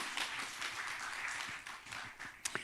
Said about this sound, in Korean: 이 세 분들 위해서 박수 한번 해주세요.